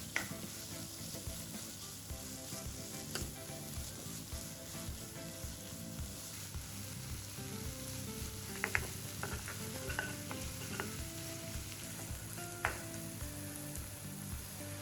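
Vegetables with sauce and sugar sizzle steadily in a hot pan, the quiet frying hiss joined by intermittent clinks and scrapes of a spoon stirring against the pan.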